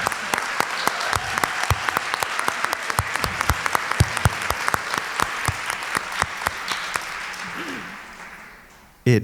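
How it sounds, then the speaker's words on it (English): Big, warm applause from an audience at a museum retrospective exhibition event, dense sustained clapping filling the room for about eight seconds before fading out, with a few voices and cheers mixed in. "a big, warm, thunderous"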